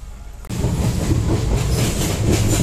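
Passenger train running on rails in West Bengal, a loud close rumble that jumps in abruptly and continues with steady clattering wheel noise and faint squeal, no talking.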